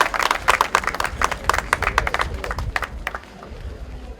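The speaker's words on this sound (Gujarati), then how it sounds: "માલેક માટે તાળીયા વગાડવાની દરખાસ્ત છે" A crowd claps for a shooting champion at a tournament closing ceremony in Antananarivo, with steady, lively applause that thins out toward the end.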